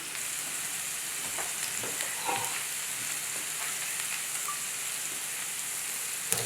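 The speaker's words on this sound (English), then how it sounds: "I'll add the onion and hot pepper and cook until it softens and becomes aromatic" Onion and hot pepper fry in olive oil with a steady, close crackling sizzle, dotted with a few soft stirring clinks and pops.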